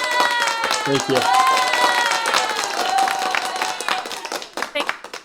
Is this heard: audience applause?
yes